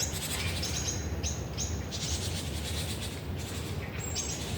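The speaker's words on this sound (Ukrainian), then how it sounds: "Тільки зранку можна почути, як співають так пташки." Several birds sing in the morning in an empty Ukrainian city, chirping and whistling in short repeated phrases over a constant soft outdoor hiss, fairly close and clear.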